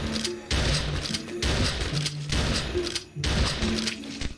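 Shotgun blasts in a Christmas video game, four heavy booming shots in steady succession, loud and close over continuous game music.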